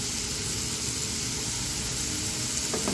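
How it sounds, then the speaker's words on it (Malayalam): Onions sautéing in a pan with a little salt, a steady soft sizzle and hiss that runs evenly throughout, fairly quiet and close, with a light clink near the end. "ഇത് നന്നായി വഴറ്റി കൊടുക്കാം."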